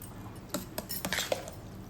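A spoon stirs venpongal in a metal pot, giving a few quick scrapes and light clinks against the sides over a soft background, close but brief.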